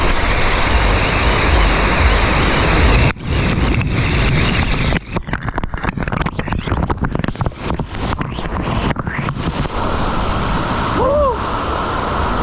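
Loud rushing water roars close by from water slide outlets at a water park in Pattaya, Thailand, mixed with heavy wind buffeting and splashing, fading to choppier bursts of gushing flow.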